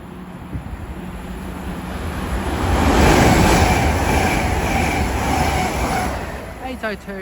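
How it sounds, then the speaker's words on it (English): A Great Western Railway passenger train rumbles past close by at West Ealing, swelling to a loud roar midway and then easing off, with faint rail clatter and squeal near the end. "we're going to have a Great Western Railway service going from London Paddington to Great Malvern"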